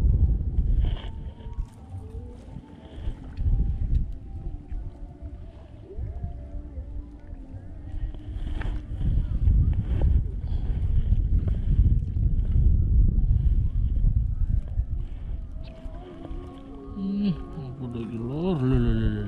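Wind buffets a boat on the water during a fishing outing in Ngantang, Malang, a steady loud rumbling gust noise on the microphone with scattered knocks and a voice speaking now and then.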